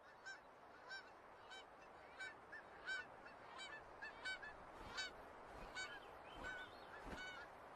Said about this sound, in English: As many as 140 million seabirds flock to Alaska's coast for the summer.